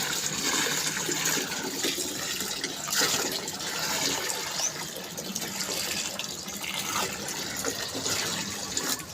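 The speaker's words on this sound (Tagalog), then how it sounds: "Tapos ilagay ko yung tap water." Tap water pours steadily into a container of calcium nitrate mix, a loud continuous rushing splash that stays even throughout, with no one talking.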